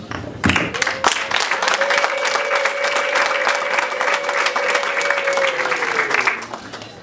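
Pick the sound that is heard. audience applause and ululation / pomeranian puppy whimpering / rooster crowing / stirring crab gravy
audience applause and ululation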